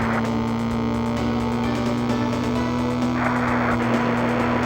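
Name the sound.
car engine sound in N64 racing video game Penny Racers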